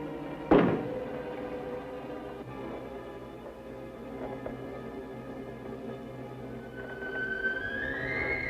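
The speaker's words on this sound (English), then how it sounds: "Knock once if you hear me." A single heavy knock from inside a closet in a horror movie, one loud dull thud followed by a low sustained musical drone and rising tone.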